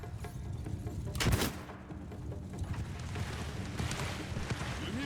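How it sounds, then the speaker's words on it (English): European gunners unleash a musket volley in the samurai strategy game Shokuho, a sharp crackling burst followed by dense ongoing battle noise of distant shots and clatter. "Alright, so my European gunners are unloading now."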